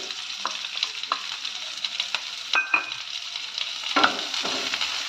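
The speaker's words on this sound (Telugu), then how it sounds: "ఈ ఉల్లిపాయల్ని కూడా ఆయిల్లోకి యాడ్ చేసుకోవాలి." Chopped onions frying in oil in a pan, a loud, steady sizzle up close with scattered spatula scrapes and knocks as they are stirred.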